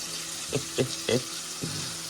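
Oysters (kalve) fry in a pan with village-style masala, a low steady sizzle punctuated by four soft stirring scrapes close by.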